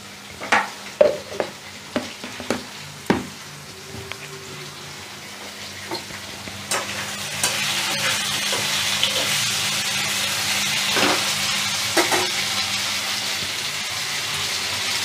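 Vegetables, drumsticks and tomato fry in a large wok with a steady sizzle, joined by several sharp scraping and stirring knocks early on, close and alone without talk.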